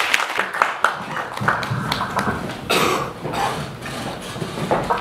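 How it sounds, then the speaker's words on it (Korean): An audience at a book talk event claps in scattered, uneven bursts, with coughs and taps mixed in, moderately close and building briefly before tapering off, with no speech over it. "박상현 대표님께 큰 박수 부탁드립니다"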